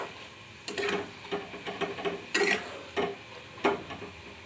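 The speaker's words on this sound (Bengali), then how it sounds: "এবারে আমি ভেজে রাখা বড়িগুলো ছড়িয়ে দেব লাউয়ের ওপরে, দিয়ে ভালো করে" A spoon scrapes and stirs in a pan as fried lentil dumplings are mixed into cooking bottle gourd. Irregular clinks and scrapes come close and fairly loud over a faint sizzle, with no talking.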